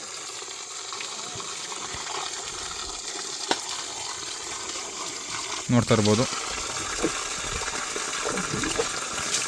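Water gushes steadily from a container as it is poured out for an elephant to drink, a continuous near rush with a few brief knocks, while someone talks over it.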